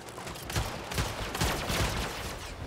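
Rapid turret gunfire in the online shooter Eternal rattles off in repeated bursts of sharp cracks, loud and close, with no voices over it.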